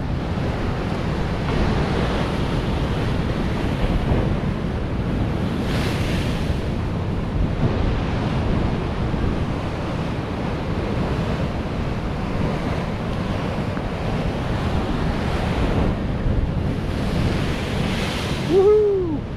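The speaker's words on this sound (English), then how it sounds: "Look at them waves." Ocean waves surge and crash continuously at Whitley Bay with a heavy, rushing roar, mixed with wind blowing across the microphone.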